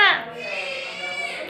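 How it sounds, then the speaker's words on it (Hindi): A baby cries in another room of a home, a thin, wavering wail that starts louder and then trails on steadily at moderate distance for a second and a half. "बच्चा रो, बच्चे की आवाज़ सुनाई दी आप लोग को?"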